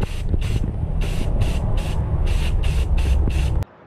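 A spray gun or aerosol sprays paint onto parts of a WWII half-track in a series of about eight short, even bursts of close, loud hissing, evenly spaced, ending abruptly.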